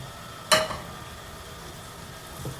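Onions, carrots, beans and green peas for vegetable fried rice sizzle steadily in a pan. One sharp metal clink of the spatula stands out near the start, and a fainter scrape comes later.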